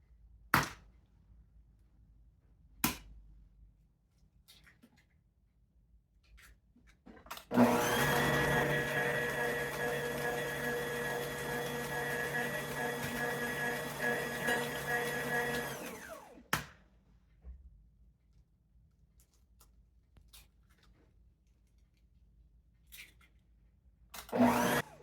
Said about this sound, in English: our butter's been creaming for about 5 minutes, the butter and sugar, I should say.